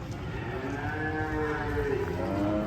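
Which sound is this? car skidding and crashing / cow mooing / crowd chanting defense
cow mooing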